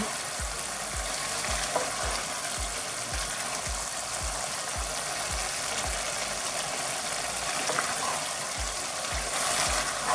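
Dudhi greens frying and being stirred in a pan, with a steady broadband sizzle and a regular rhythm of soft spatula scrapes about once a second, close and even throughout.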